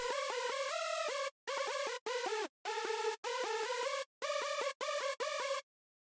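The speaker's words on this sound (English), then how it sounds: "So this hypersaw is just quite basic, maybe a little bit of an LFO on there" A bright, buzzy synth lead plays a series of sustained chords in short bursts separated by abrupt gaps, loud and steady before stopping.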